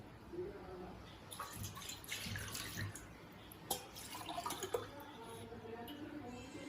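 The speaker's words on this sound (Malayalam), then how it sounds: "ഇനി ഇതിലേക്ക് ഞാൻ 2 കപ്പ് പാലും കൂടി ചേർത്ത് കൊടുക്കുകയാണ്" Milk pours from a cup into a bowl of porotta dough mixture, a quiet close-up trickle and splash with small spattering peaks and a faint background hum.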